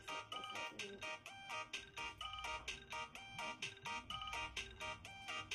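Mobile phone ringtone playing a repeated melodic electronic pattern for an unanswered call, steady rhythmic notes looping several times, fairly faint, with no talk over it.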